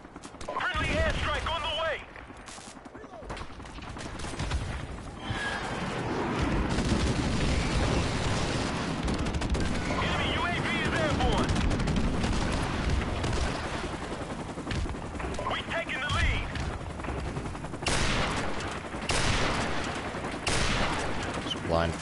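Rapid bursts of gunfire from the shooter game Modern Warfare Remastered crackle repeatedly through a match, with someone talking over much of the shooting.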